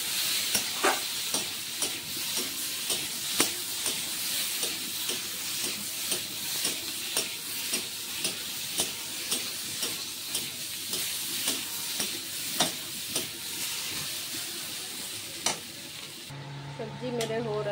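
Turmeric, chili powder and mixed spices with garlic, ginger and cumin sizzle in hot oil in a pan, a steady frying hiss broken by regular stirring scrapes and clinks throughout.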